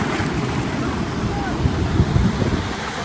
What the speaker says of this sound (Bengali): আর যে সুন্দর ঢেউ দিচ্ছে সাগরে